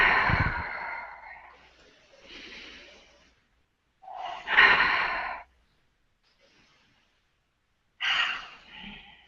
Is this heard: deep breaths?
yes